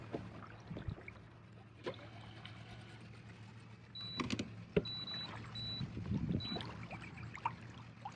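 Small electric trolling motor, a 12-volt Minn Kota Ultrex, drives an Old Town Sportsman AutoPilot 136 kayak across water, giving a low steady hum beneath faint water noise, with a few short high whirring motor tones near the middle.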